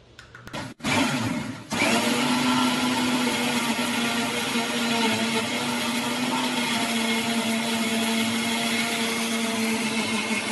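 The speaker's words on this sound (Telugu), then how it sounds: "కొంచెం నీళ్లు పోసి మిక్సీ పట్టుకొని వస్తా" A mixer grinder blends mint sharbat ingredients with water, starting with a brief sputter and cut-off, then settling into a loud, steady, continuous whirring drone that runs to the end.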